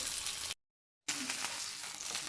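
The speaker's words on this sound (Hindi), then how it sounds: "ऑयल आप लोगों ने कम ही रखना है और मीडियम फ्लेम पे हम इन्हें फ्राई करेंगे।" Potato chicken egg cutlets frying in a little oil over a medium flame make a loud, close, continuous sizzle, briefly cut to silence for about half a second before resuming.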